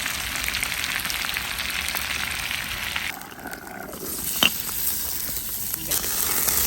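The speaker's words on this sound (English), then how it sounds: "Guys, the pot are bubbling now." A pot bubbling over a hot woodfire in Jamaica gives a continuous sizzling, hissing simmer with a soft gurgle beneath, broken by one sharp pop or crackle midway, with no clear talk.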